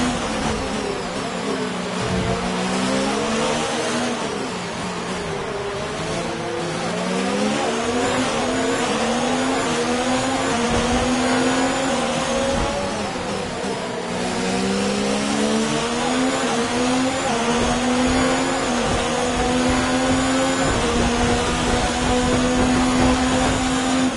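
A worn Formula 1 race car engine in the video game F1 2019 screams at high revs throughout, its pitch climbing and dropping with gear changes, steady and loud with no talk.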